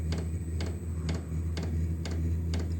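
An autonomous diesel heater running after start-up, a low steady hum underneath regular sharp ticks roughly every half second, like a fuel pump pulsing.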